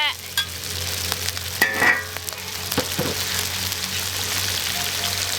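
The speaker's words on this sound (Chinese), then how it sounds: "爆炒， 稍微炒一下啊，不要炒太久，加入豆腐干" Beef sizzles loudly in a hot wok as a spatula stir-fries and scrapes it, with a few sharp clanks against the metal.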